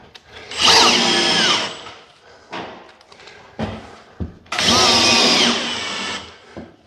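Power drill driving countersunk screws into timber during a quick repair, two long whirring runs with short bursts and knocks between them, close and loud.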